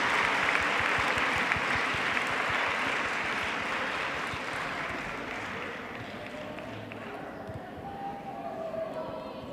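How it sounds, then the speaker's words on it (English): A large crowd applauds kirtan singers, chanters, dancers and participants at a World Meditation Day gathering, steady dense clapping that slowly thins and softens toward the end, with a few faint voices underneath. "Please, a big round of applause to all of you, our kirtan singers, chanters, dancers, and participants"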